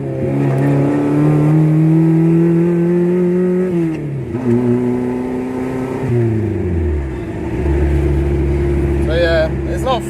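Turbocharged Honda Civic running rich and accelerating hard, its loud engine rising steadily through the gears with pitch drops at each shift, heard close from inside the car.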